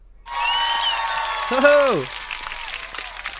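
Game applause after a successful target hit, a steady crowd-clapping wash that starts abruptly, overlapped by a voice and a falling tonal sound effect midway before fading.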